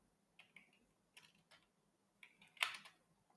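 Soft typing on a computer keyboard comes as a few scattered clusters of quiet key clicks with pauses between them, ending in a slightly louder burst, with no talking.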